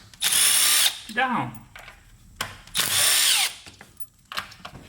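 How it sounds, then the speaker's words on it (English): A power tool on a Toyota Corolla backing out the 10mm bolts that hold the ignition coils, with loud whirring bursts and short pauses between them and a brief spoken word. "using my power tool, I will remove 10mm bolts, which are holding those coils"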